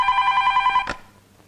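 A telephone bell rings in a steady, trilling electronic burst in an action-film scene, then cuts off abruptly with a click, leaving near silence.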